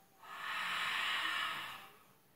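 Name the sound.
throat breathing exhalation in pilates breathing exercise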